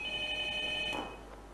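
A telephone rings for a call-in Quran reading contest on a TV broadcast. It gives a steady electronic trill for about a second, then stops and leaves faint room noise.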